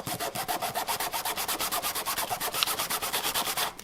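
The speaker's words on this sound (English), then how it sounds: "Sandpaper on this real quick." Hand sanding of DIY widebody overfenders with sandpaper, a steady series of quick, rhythmic, raspy back-and-forth strokes, close and loud, with no talking.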